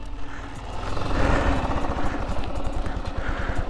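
A 1983 Honda TLR 200 trials motorcycle runs at a fast idle, its small single-cylinder engine giving a close, steady rapid putter with a slight swell in revs.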